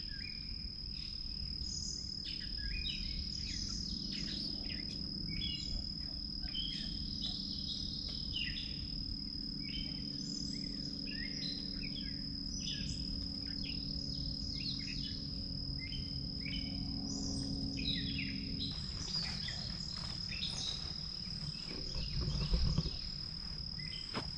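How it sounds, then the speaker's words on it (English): Birds chirp and call repeatedly over a constant high insect drone, a quiet early spring morning in woodland with no talking. "There's a few birds there. Lots of cool sounds."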